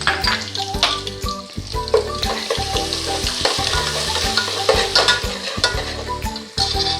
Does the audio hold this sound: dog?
no